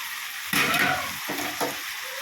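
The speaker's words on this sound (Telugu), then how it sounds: "ఒకసారి అయితే కూర తిప్పేసుకున్నాము" Chicken fry curry is stirred in a hot pan, giving a steady sizzle broken by a few scraping stirs close up, with no voices.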